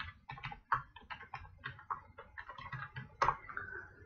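Someone types entries into an Excel list on a computer keyboard: quiet, irregular bursts of quick key clicks with short pauses between them, heard alone and close.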